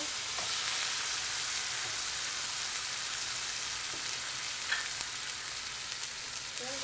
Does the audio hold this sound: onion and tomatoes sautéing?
yes